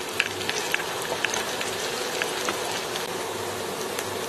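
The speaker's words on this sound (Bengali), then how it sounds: "পেঁয়াজ আর রসুনটা সামান্য পরিমাণে ভাজা ভাজা হয়ে আসছে" Onion and garlic frying in oil in a frying pan, a soft continuous sizzle with scattered small pops and crackles, fairly steady and close, with no talking.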